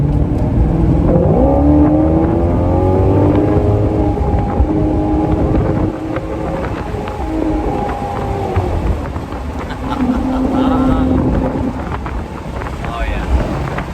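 A 2019 Maserati GranTurismo Cabriolet's naturally aspirated Italian V8 is driven with the top down. The engine note climbs and falls through repeated revs under heavy wind rush.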